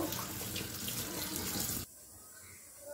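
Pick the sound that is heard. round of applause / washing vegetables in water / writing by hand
washing vegetables in water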